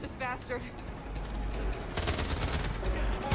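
Rapid gunfire in Far Cry 5, dense bursts of shots building louder in the second half, with game noise underneath.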